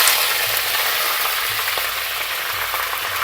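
Curry leaves and mustard seeds sizzling in hot oil while cooking a prawn masala, a loud steady crackling fry throughout with faint intermittent low thumps.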